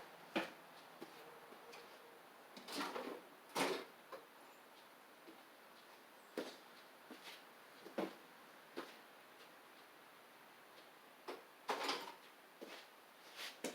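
Metal tools clinking and rattling faintly as an Allen socket set is pulled from a drawer, scattered sharp clicks and knocks at irregular intervals in a quiet room.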